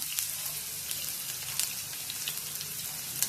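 Finely chopped onion sizzles steadily in a pan at the start of a ridge gourd (dodka) vegetable dish, a soft continuous crackle with light pops and no voices.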